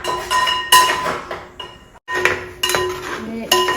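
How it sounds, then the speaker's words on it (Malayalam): Palada payasam of milk, sugar and ada stirred in a pot on the stove, a spoon scraping and clinking against the metal in irregular bursts with brief pauses, close and fairly loud. "ഇടയ്ക്ക് ഒന്ന് ഇളക്കി കൊടുത്തോ."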